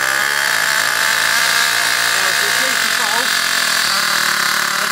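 The Ansmann Virus 2.0 RC model BigBlock engine runs while it is being run in, giving a continuous loud, buzzing drone close by with small shifts in pitch, and people talk over it.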